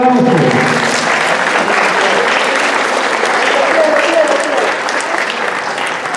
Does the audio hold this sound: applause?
yes